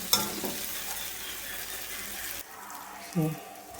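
Ten eggs go into a frying masala in a pan for egg bhurji curry. A dense sizzle and stirring runs at first, then drops to a quieter hiss with a short, louder splash near the end.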